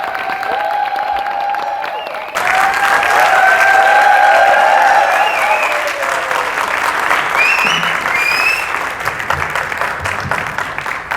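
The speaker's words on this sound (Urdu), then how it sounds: "آپ کی بھرپور تالیوں میں جناب افتخار فی" Audience clapping at a mushaira poetry gathering, starting quieter and then swelling loudly at once into full, sustained applause with some crowd cheering mixed in.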